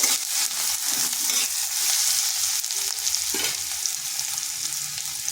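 Finely chopped onion fries lightly in hot oil in a pan, giving a steady, close sizzle throughout with occasional soft stirring and no voices.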